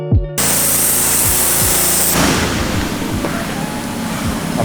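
High-pressure power washer spraying water at a new shop, a loud steady hiss that continues alone throughout.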